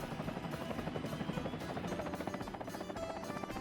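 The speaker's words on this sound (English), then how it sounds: "these helicopters are basically going to get a lot of materials in here" Helicopters flying in Workers & Resources: Soviet Republic, a steady rapid rotor chop throbbing continuously at moderate distance with no other sounds.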